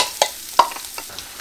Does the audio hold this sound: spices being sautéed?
yes